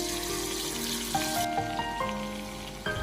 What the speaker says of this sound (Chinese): 将锅烧热，倒入食用油，油热之后下入鸡翅。